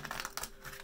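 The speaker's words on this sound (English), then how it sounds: "so just a quick little shuffle here" A quick card shuffle of a tarot or oracle deck, a short burst of papery crinkling riffles close to the microphone with no talking.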